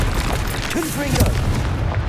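A Confringo fire-blast spell explodes in Hogwarts Legacy, a loud booming burst over a dense, continuous bed of game noise, with a brief voice-like tone partway through.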